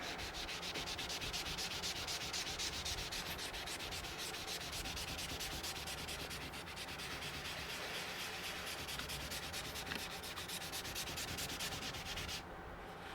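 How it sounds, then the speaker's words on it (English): Wet plastic part from a Millipede arcade restoration being wiped and rubbed clean, a continuous close scrubbing and rubbing noise at steady loudness that stops just before the end, with no talking. "Take it, wipe it off."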